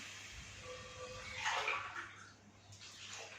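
Water is poured from a glass into a pot of uncooked rice in a home kitchen, a steady splashing pour that swells midway and then eases, heard alone without voices.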